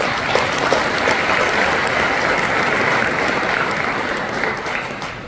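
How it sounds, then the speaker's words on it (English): A conference audience at a space technology panel in Wiesbaden, Germany, claps for the incoming moderator, producing dense, loud, sustained applause that fades slightly toward the end. "Let's give her a round of applause."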